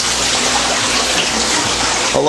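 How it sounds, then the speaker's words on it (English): Steady, loud rushing and splashing of water pouring down into an aquarium, a continuous broad wash of sound with no pauses. "When water falls like this, it breaks the molecular surface tension and it lets the air in the room enter the water."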